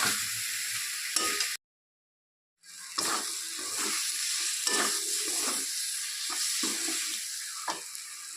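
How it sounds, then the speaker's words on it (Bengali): Spices sizzle steadily in a hot pan while a spoon stirs and scrapes through them, the frying hiss continuous apart from a brief gap. "মশলাটা যেন ভালো করে ভাজা ভাজা হয়ে যায় সব কিছু।"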